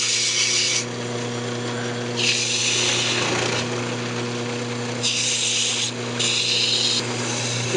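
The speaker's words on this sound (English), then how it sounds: "just going to go ahead and sand up the inside and inside the box and outside" Sandpaper rubbing on a turned wooden lidded box spinning on a woodturning lathe, a steady motor hum with a hissing scrape that swells and fades in several passes.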